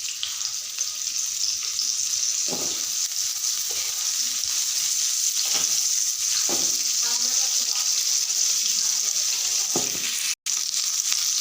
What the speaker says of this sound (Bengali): ডাটা ভাজি আবার সামান্য তেল দিলাম ডাটাগুলো ভেজে নিচ্ছি